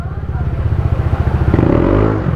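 A Yamaha Aerox scooter fitted with a Speedtuner pulley set revs hard and close, its pulsing engine note climbing in pitch as it accelerates, with no talking over it.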